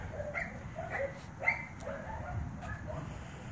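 Five-week-old Norwegian Buhund puppies give several short high whimpers and yips, close and fairly soft, scattered over a low background rumble with no talk.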